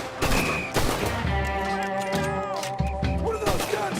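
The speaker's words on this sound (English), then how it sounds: "What are those guns they have?" Bursts of gunfire in the video game Red Dead Redemption 2, sharp loud shots over a droning musical score and game effects, with several distinct cracks spaced across the few seconds.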